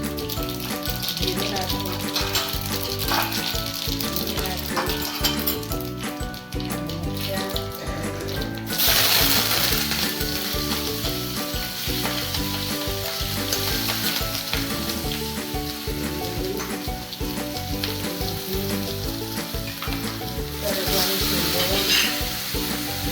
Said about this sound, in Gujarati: સાંભર બનાવવા માટે તેલ ગરમ કરી નાખી